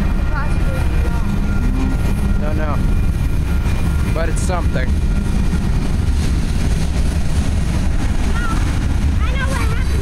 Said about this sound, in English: All that squeaking and noise is making the train go slower